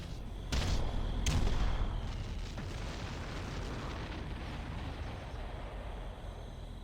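Artillery bombardment in the Ground Control strategy game, where two sharp booming impacts come close together and fade into a long rumbling roar of continued shelling.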